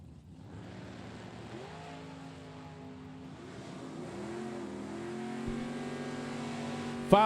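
Drag racing vehicles, a Chevy S10 truck and a Mopar Daytona, build engine noise that rises steadily in pitch and loudness over several seconds, ending in a sharp loud burst.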